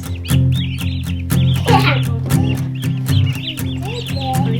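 Baby turkeys in a big box on a farm give a run of rapid, loud, close chirps and clucking peeps, repeated without pause.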